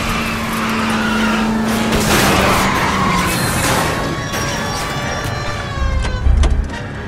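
A car in the L.A. Noire video game skids as it is spun out, giving a long, loud tire screech over engine noise, with a rumbling crash-like surge near the end.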